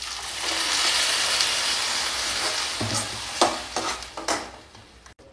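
A steady hot-pan sizzle hisses, then a few wet splashes and bubbling bursts as tomato puree is poured in near the microphone.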